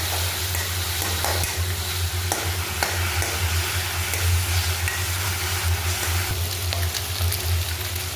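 Pieces of rui fish fry in hot oil in a pan, giving a steady, close crackling sizzle with occasional louder pops and spatters throughout, with no talking.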